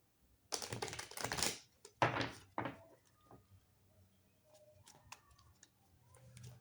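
Tarot cards are shuffled and drawn in two quick bursts of crisp rustling up close, followed by softer scattered taps and slides in a quiet room.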